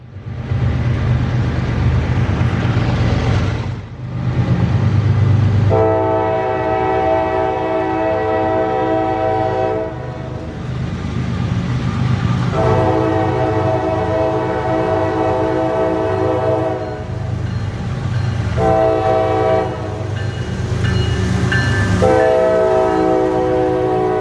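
Southbound manifest freight train M583 rumbling past with its horn blowing in several long loud blasts over the steady rolling noise, close and uninterrupted by voices.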